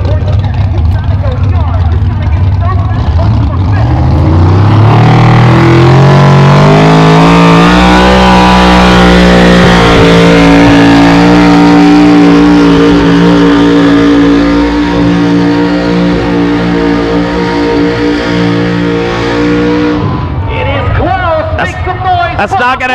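A pulling truck's engine roars at a truck pull, climbing in pitch as it revs and then holding a loud sustained drone for about fifteen seconds before cutting back, with crowd noise and talk underneath.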